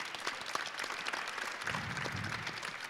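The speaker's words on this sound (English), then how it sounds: "So, an applause for Kevin," An audience at an academic panel on trans data rights applauds a speaker with dense, continuous clapping at moderate distance, and a low rumble comes in partway through.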